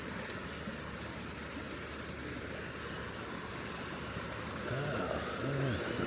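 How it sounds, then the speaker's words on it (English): A creek runs steadily where a side stream joins it, a constant broadband wash of flowing water heard from a short distance, with a faint low rumble swelling briefly near the end. "I keep hearing the creek where it joins in running out of my periphery earshot"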